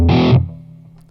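An electric guitar runs through Boss effects with a noise suppressor, giving a short, loud burst of fuzzy, distorted noise that quickly drops off into a low, humming tail, with no one talking.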